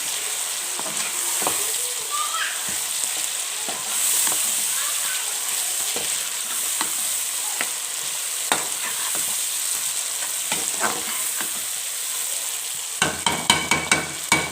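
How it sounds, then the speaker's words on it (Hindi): Chicken frying in a pot for a cauliflower and meat curry, with a steady loud sizzle throughout and scattered stirring clatters, ending in a quick run of spoon taps against the pot, while someone speaks over it. "और अब मैंने इसको फ्राई होने देना है अच्छे तरीके से"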